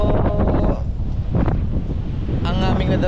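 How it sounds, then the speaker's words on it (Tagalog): Strong wind at sea buffeting the microphone, loud roaring gusts with rushing surf and boat noise, continuous and close throughout. "Grabe lakas na hangin."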